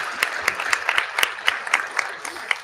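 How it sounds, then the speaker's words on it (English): Audience applause at a city council meeting in Norwalk, a sustained wash of claps from a medium-sized room with a few sharper individual claps standing out, steady and moderately loud with no talk over it. "Let's give him a warm applause."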